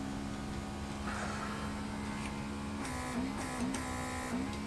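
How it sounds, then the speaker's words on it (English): A Worx MakerX airbrush compressor runs with a steady close hum and a low tonal drone. Short hissing bursts come through near the end as the airbrush trigger is pressed. "if the compressor's not powerful enough"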